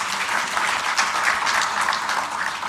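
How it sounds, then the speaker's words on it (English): Audience applause fills a vetting hearing for nominees to the Bank of Ghana, a steady, dense round of clapping from a large room, continuous and fairly loud throughout. "Please acknowledge him with a round of applause."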